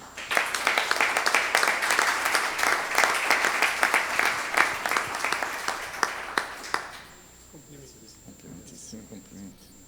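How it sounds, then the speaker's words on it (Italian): An audience at the Venice Leone d'Oro international award ceremony breaks into loud, sustained applause for about seven seconds, then the clapping fades into quiet room tone with a faint voice. "Signori, accogliamo con un grande applauso l'editore di Teleuniverso"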